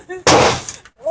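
An M6AZ rifle on full auto at a shooting range lets off one loud, dense burst of rapid shots lasting about half a second. Voices are briefly heard just before and after it.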